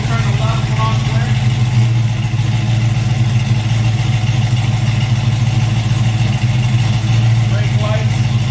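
A 1965 Ford Mustang coupe engine idling steadily, a continuous low rumble close by with faint talk running under it.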